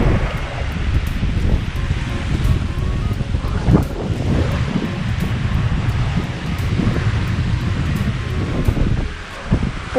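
Wind and surf at the seaside on Ile Saint-Bernard, Châteauguay, a steady broadband rush of waves washing in with gusting wind buffeting the microphone, continuous and fairly loud with no voices.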